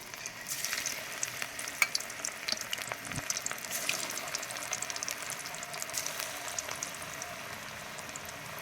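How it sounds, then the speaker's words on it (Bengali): Beetroot pakoras frying in hot oil give a steady, close sizzle with scattered crackles and pops that run without a break from start to end, with no voices. "পকোড়াগুলো আবারও আমার ভেজে নেওয়া হয়ে গিয়েছে"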